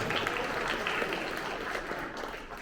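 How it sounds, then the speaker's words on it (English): A school honor roll audience applauds award-winning students, a dense continuous patter of many hands that holds steady and then tapers slightly at the end. "let's give these three a round of applause"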